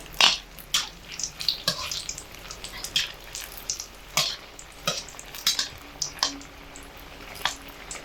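An egg and chopped onion snack frying in oil in a pan, with a low sizzle under a series of sharp spatula clinks and scrapes as pieces are turned over, spaced through the moment.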